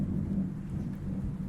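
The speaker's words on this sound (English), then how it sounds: "God, that thunder is crazy." Low, rumbling thunder rolls through a thunderstorm, a faint continuous deep growl with rain-like hiss underneath and no voices.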